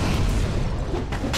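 A torpedo attack explosion in Dark Souls 3 lands as a heavy, rumbling boom with crackling debris, loud and close across the whole brief moment.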